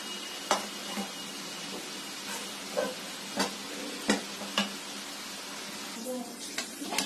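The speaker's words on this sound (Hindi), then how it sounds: "बेसन भूनने में थोड़ा टाइम लगता है" Gram flour (besan) roasting in ghee in a pan gives a soft, continuous sizzle and hiss, broken by a few sharp scrapes and taps as it is stirred.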